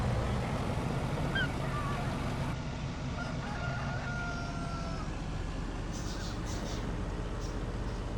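A rooster crows in a Farming Simulator 19 animal pen: drawn-out crowing calls rise over a steady engine drone, with someone talking over parts of it.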